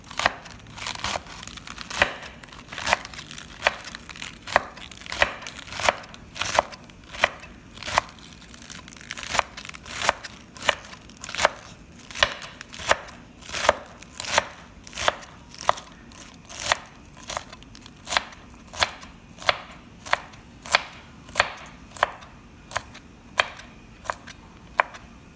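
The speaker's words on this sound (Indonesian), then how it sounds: "ini kobisnya itu diiris kecil-kecil kayak gini buat ntar isian di dalamnya" A knife slices cabbage into small pieces on a cutting board for tofu filling, a steady run of crisp, close chopping thuds and crunches repeating roughly every second, with no talking.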